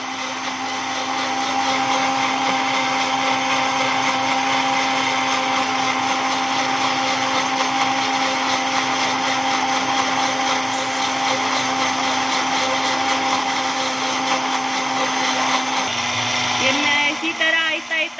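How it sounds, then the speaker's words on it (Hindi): A blender whirs loudly and steadily for a long stretch while chilled oil is added to eggless mayonnaise, its motor pitch shifting near the end as the mixture thickens. "शेकर की आवाज़ चेंज होने से ही इसकी आपकी कंसिस्टेंसी का अंदाज़ा कर सकेंगे"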